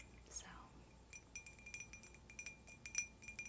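Glass cups clink softly up close in a quiet ASMR setting, a rapid irregular series of delicate taps and chimes rising in density, with a faint whisper-like breath near the start.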